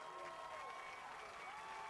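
A football stadium crowd cheers and applauds in a continuous, distant roar that stays steady throughout.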